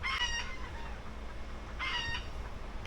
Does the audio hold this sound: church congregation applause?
no